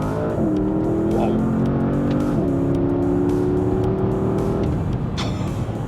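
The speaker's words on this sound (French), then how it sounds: "on arrive sur la portion de la route où l'on peut un peu plus laisser s'exprimer le V8 et la boîte de vitesse" A Porsche Panamera Turbo V8 accelerates hard through the gears, its engine note rising loud and close, dipping briefly at a shift, then climbing again in a sustained roar.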